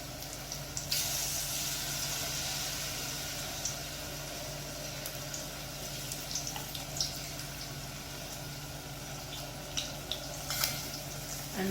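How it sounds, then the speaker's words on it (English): Saltfish, callaloo and carrot fritters frying in oil in a pan, a steady close sizzle with occasional pops and no voices. "Fry for about 2 to 3 minutes on one side"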